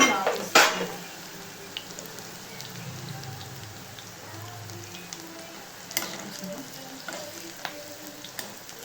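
Fish frying in oil gives a steady crackling sizzle with scattered pops, starting with a sharp clatter and then settling into an even, moderately quiet hiss.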